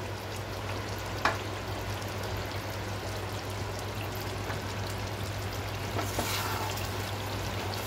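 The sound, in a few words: chicken and potatoes stir-frying in a pan with water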